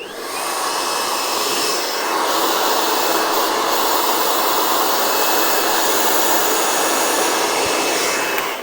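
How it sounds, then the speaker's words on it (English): Continuous loud whirring of a handheld blow dryer aimed at hair, a steady motor-and-air roar with a faint high whine running unbroken from start to finish. "I'm just going to do a quick little zhuzh with the blow dryer here."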